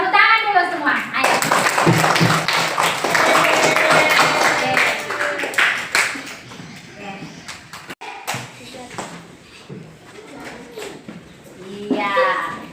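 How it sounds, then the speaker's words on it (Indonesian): Schoolchildren in a classroom clap their hands together in a loud burst of dense applause that lasts several seconds and then fades, with children's voices talking and chattering around it before and after. "Tepuk tangan dulu semua."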